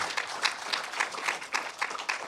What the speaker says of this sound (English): Let's go ahead and give Andrew another round of applause.